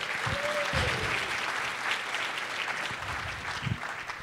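Applause from a conference audience at ng-conf 2022, a steady wash of many hands clapping throughout, with a few faint cheers and voices mixed in.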